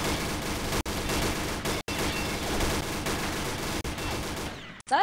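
Continuous rapid gunfire fills the shooter game Combat Arms, a dense, loud burst stream broken by a few brief gaps before a different effect at the end.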